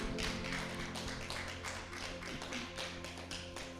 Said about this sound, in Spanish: Dale las fuertes palmas al Señor primeramente